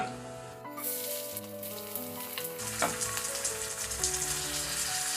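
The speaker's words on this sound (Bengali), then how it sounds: "এবারে জিরে আর এলাচটাকে ঘিয়ের মধ্যে খানিক্ষণ নেড়ে নেব" Cumin seeds and cardamom sizzle steadily in hot ghee for jeera rice, a loud continuous frying crackle with faint stirring throughout.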